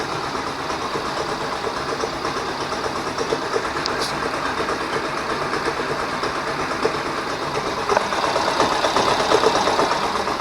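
A vehicle engine with an oil-related fault runs steadily with a dense, fast chattering drone likened to a helicopter, loud and close, continuous throughout without pauses.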